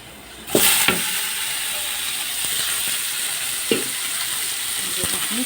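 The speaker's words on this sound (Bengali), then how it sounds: "এখন শাকটা ঢেলে দেব" Leafy greens tip into a pan of browned onion and garlic, setting off a sudden loud sizzle that settles into a steady frying hiss with a few stirring clatters.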